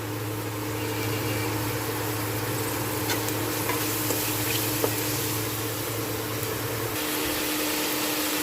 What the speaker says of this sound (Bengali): পেঁয়াজটা ভাজতে ভাজতে যদি মনে হয় যে একটু লেগে যাচ্ছে, তো একটুখানি জল দিয়ে ভালো করে ভেজে নিই